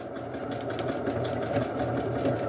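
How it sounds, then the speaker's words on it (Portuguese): Sewing machine running steadily at low speed while stitching fabric strips together, a continuous close mechanical whir with a fine rapid stitching rhythm and no pauses. "Deixo a máquina na velocidade baixa para que eu consiga direcionar bem a minha costura."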